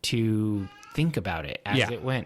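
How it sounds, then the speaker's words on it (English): A cat meows in a scene from the 2016 film Shin Godzilla. The drawn-out, fairly close meow is followed by people talking over it. "you can hear the sound of the cats in the background"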